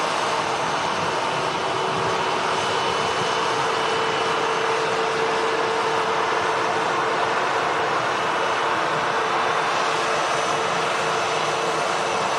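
Aircraft at Manchester Airport, a TAP Air Portugal Embraer among the traffic, gives off a steady, moderately loud jet engine roar that holds evenly throughout, with no voices over it.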